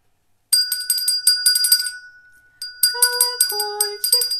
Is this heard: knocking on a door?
no